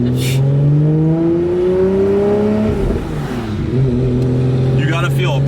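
A Nissan R34 GTR engine revs and builds boost, its pitch climbing steadily through a gear, dropping at a shift, then rising again, loud and close from inside the car, with people talking over it.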